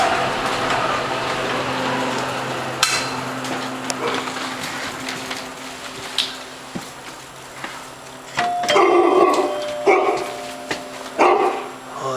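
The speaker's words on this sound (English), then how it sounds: "Oh, that's a big dog." A big dog barking loudly in an artist's studio in Williamsburg, several sharp barks in irregular bursts in the second half after a quieter rumbling stretch, close by.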